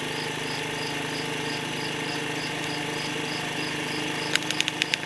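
Vacuum pump evacuates a Heidolph Laborota 4000 rotary evaporator system in a lab, giving a steady mechanical hum and drone, with a few short clicks near the end.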